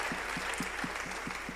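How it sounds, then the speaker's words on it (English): Steady audience applause at an event, a continuous wash of clapping hands held at an even level across the whole stretch, with no voices rising above it. "let's give a thunderous hand of applause to the living God"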